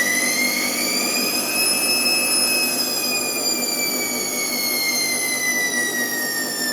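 A washing machine motor with worn carbon brushes spins at high speed during an empty spin-cycle test, with a steady, shrill whine and rising-then-easing tones, continuous and close, no voices.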